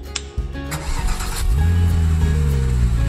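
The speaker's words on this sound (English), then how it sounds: "First, start your vehicle." Car engine cranking with a few quick starter whirs, then catching and settling into a steady, loud, low idle rumble close by.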